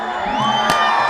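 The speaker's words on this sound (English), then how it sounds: "The team trying to get the crowd into it, and they are ecstatic." A soccer crowd cheers after a college championship win, a burst of shouts and whoops with high excited voices and one sharp peak midway, loud and continuous over a short stretch.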